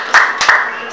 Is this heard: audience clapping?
yes